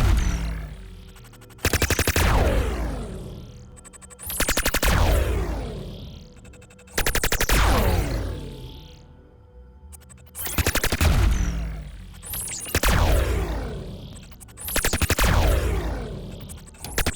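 A futuristic weapon in rapid-fire burst mode lets out repeated bursts of sharp, crackling shots, each followed by a descending, ringing tail. Six or seven loud bursts come at roughly two-second intervals with no talking.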